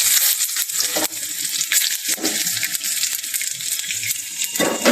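Bean seeds fry in hot oil with dried chilli and bay leaf, giving a loud, close, continuous sizzle punctuated by stirring scrapes and soft clinks, with no talking.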